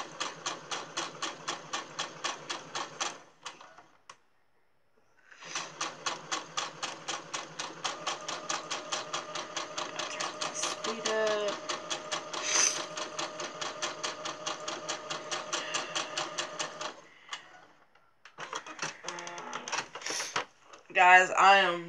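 Home sewing machine stitching a small Easter gift bag, a fast rhythmic mechanical chatter running in bursts with short pauses and a back-stitch, close and steady, with brief faint squeaks near the end.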